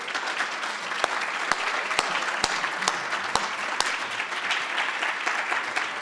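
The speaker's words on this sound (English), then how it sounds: "Please welcome me with applause as we bring to the stage our keynote speaker, Shannon Lanier." An audience breaks into sustained applause to welcome a keynote speaker, a broad wash of clapping with a few sharp, distinct claps ringing out near the front at irregular intervals.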